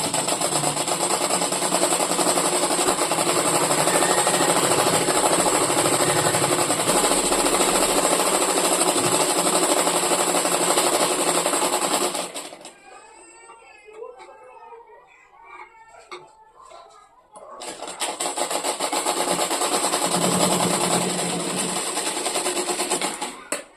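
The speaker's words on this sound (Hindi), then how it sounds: "तो अब मैं ये फिटिंग की सिलाई लगाऊंगी।" A sewing machine stitches the side fitting seam of a coat-collar shirt, a loud steady rapid clatter that pauses mid-way for a few seconds of quiet handling before the stitching resumes.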